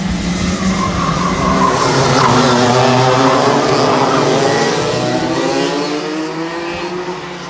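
Go-karts race past on a track, loud engine whine and tire squeal sweeping by close, with rising and falling pitch as the karts pass.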